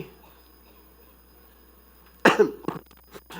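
A sharp cough bursts out after a stretch of quiet, followed by a few shorter coughs trailing off, close and fairly loud.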